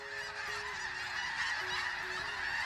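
Snow geese honk in a dense, continuous chorus in Washington's Skagit Valley, with nasal calls overlapping and rising and falling, heard alone.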